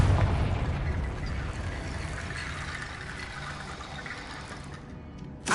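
A Confringo blasting curse explodes in Hogwarts Legacy: a loud, rumbling boom that rolls into a long, dense roar of debris and wash, slowly fading over several seconds, with a sharp new burst at the very end.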